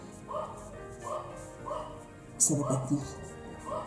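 A female dog barks at the mail carrier in repeated yaps spaced about a second apart, moderately near, while someone speaks over part of it.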